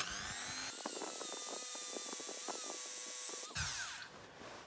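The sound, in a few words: felt polishing wheel polishing a die-cast toy wheel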